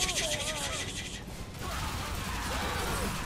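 Gunfire in the video game Bulletstorm, a loud burst of rapid shots that breaks off briefly and then resumes as a dense barrage, with a voice talking over the action.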